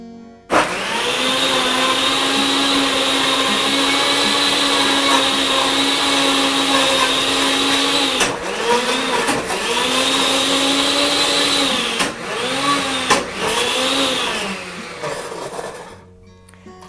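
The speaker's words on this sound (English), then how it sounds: "You'll notice that I'm using a very powerful blender" A powerful blender blending carrots and zucchini whirs loudly at a steady pitch, its motor dipping and rising a few times as the contents shift, then cuts off.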